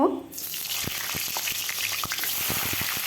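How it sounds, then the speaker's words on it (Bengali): Potato pieces fry in mustard oil in a wok on a gas stove. A loud burst of sizzling starts at once and then settles into a steady crackle, with a few sharp clicks from stirring. "আলুগুলো ভেজে নেব"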